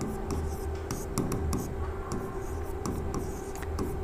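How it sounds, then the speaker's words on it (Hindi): Pen scratching steadily on paper while a Class 10 trigonometry problem is worked out, a continuous close writing texture with small taps and strokes over a low background hum. "तो चलिए लिखते हैं"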